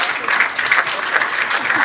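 Audience applause for two comedians at a comedy show, a dense steady clapping that carries on evenly from start to finish, with some voices mixed in.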